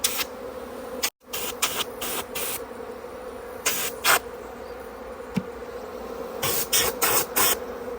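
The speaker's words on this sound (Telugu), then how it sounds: "ఈగలన్నీ ఆ పక్క మోరుస్తున్నాయి" Honey bees swarm around a freshly harvested hive on a farm in Korea, a close, continuous buzzing drone that swells in louder bursts as insects pass near, with no talking.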